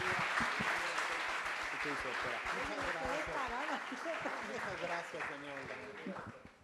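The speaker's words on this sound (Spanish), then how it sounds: "Un aplauso, por favor." Audience applause at a book presentation at a university, with steady, dense clapping throughout, heard under someone speaking over the PA and slowly fading near the end.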